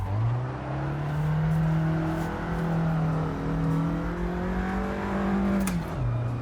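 A car engine in the racing game Assetto Corsa during a drift, a steady droning whir that rises and falls in pitch as the revs shift, then dips sharply near the end, with no voices.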